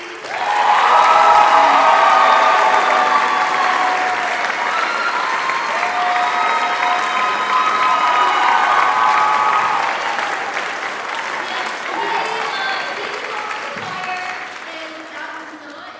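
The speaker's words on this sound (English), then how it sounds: "A round of applause, Mr. G." At a spring choir concert, the audience claps warmly for a departing director, loud sustained applause that swells early and slowly tapers, with voices and scattered cheers mixed in.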